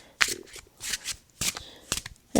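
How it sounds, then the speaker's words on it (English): A deck of oracle cards shuffled by hand in a few quick, crisp bursts of riffling and slapping, close and fairly quiet, separated by short pauses. "So give a nice little shuffle here."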